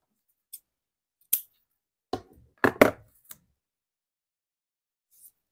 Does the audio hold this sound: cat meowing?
no